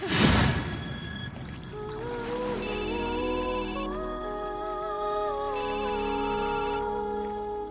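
A mobile phone ringtone plays a bright electronic melody that repeats in looping phrases, clear and close with no talking over it.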